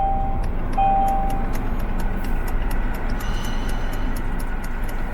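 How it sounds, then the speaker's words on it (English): A car engine idles steadily inside the car, a constant low rumble filling the space with no voices over it. "I'm gonna have to turn on the car and see."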